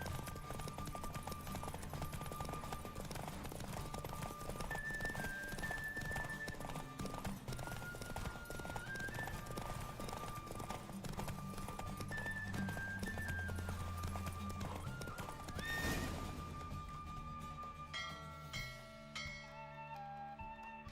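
Horse galloping in a race in The Witcher 3: Wild Hunt, with rapid, continuous hoofbeats throughout, layered over game music and ambient sound.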